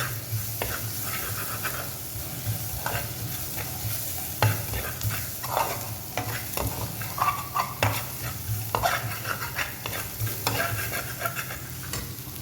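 Beef stir-frying with chilli powder in a kadai for a pepper beef chukka: continuous hot sizzle broken by frequent scraping stirs and clinks of a ladle against the iron pan, close and busy, with no speech.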